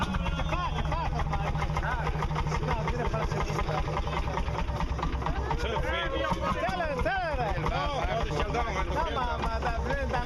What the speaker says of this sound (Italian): stanno tentando di mettere in moto un Landini